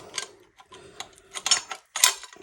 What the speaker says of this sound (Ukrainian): І у нас випаде затвор